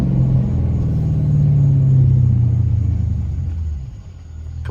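A Chrysler 300S with a loud exhaust is driven on backroads with a paddle shifter. A deep, steady engine rumble rises slightly in pitch, then eases off and dips near the end.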